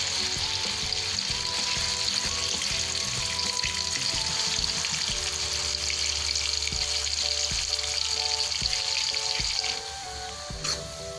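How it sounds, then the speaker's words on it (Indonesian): Ground chili paste sizzles and fries in hot oil in a home kitchen, a dense crackling hiss with scattered clinks and scraping from stirring, close and steady, no talking. "Kalau udah panas, kita masukkan cabai yang udah kita ulek tadi."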